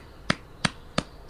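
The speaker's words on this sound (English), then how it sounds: "It's a clap." Four sharp hand claps ring out at an even, quick rhythm, each a crisp isolated smack with quiet between.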